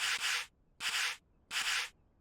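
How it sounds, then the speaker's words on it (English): Sanding in the Workshop Simulator game: three even, hissing rasp strokes of a sander on wood, each about half a second long, separated by brief silent gaps. "The sanding, I think, is like the first thing that needs to be upgraded."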